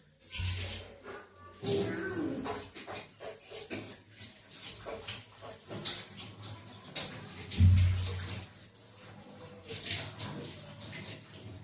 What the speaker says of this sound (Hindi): हाथ धो लेता हूँ पहले